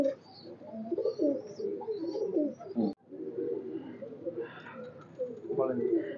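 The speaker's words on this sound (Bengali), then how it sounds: "কবুতর গুলো দেখেন, প্রত্যেকটা কবুতর খুবই কোয়ালিটিফুল কবুতর" Pet teddy pigeons coo softly in repeated low, throaty phrases close by, with a few higher chirps mixed in.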